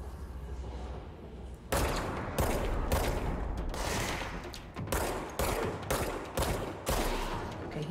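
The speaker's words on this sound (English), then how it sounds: "I feel like I should proactively shoot these guards because they're going to come after me." Rapid bursts of gunfire shooting at guards in the video game Control, loud repeated volleys after a quieter start, with no talking.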